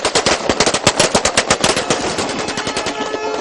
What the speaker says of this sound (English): filled the streets of Sirte with celebratory gunfire